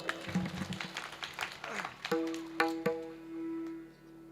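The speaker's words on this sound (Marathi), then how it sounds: "एकदा टाळी वाजा जोरदार" Audience clapping at a Shivjayanti kirtan in a temple, a burst of scattered hand claps that gives way to sustained instrument tones and talk.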